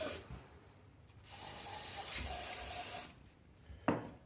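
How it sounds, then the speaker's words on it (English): Parts cleaner sprayed from an aerosol can into a metal slide hammer packed with metal shavings: a steady hissing spray for about two seconds between quieter stretches, then a short clank near the end. "I'm just going to spray some parts cleaner in there to"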